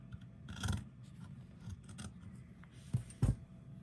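Scissors snip through green fur fabric, a few close, crisp cuts with soft rustling between them and a double snip near the end.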